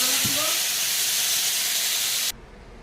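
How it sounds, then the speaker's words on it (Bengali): Potatoes sizzle in hot oil with a loud, dense hiss that runs continuously and then cuts off abruptly near the end. "এখন এর সঙ্গে আমি আলুটাকে ভেজে নেবো।"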